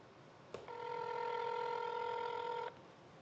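A telephone ringback tone sounds during a call to a prize winner, a single steady electronic ring lasting about two seconds, faint and clear against a quiet background.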